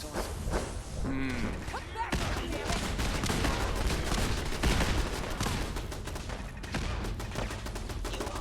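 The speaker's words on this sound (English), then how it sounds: "those explosive turrets are doing work" Explosive turrets in Fallout 4 survival mode fire a dense, continuous barrage of booming shots and thuds, loud and sustained with voices talking over the combat.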